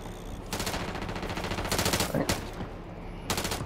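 Rapid bursts of automatic gunfire from Call of Duty Warzone Resurgence, several loud sustained volleys with short gaps, sharp and close, with occasional faint voice chatter underneath.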